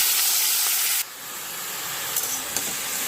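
Bottle gourd greens hit hot oil with a sharp, loud burst of hissing sizzle that settles after a second into a steadier frying hiss, with a few small pops, close by.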